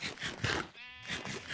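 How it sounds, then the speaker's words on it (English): Sheep bleating in the video game Minecraft, a few short nasal bleats repeating in a loose rhythm, faint and close, with no talk. "Shut up, sheep."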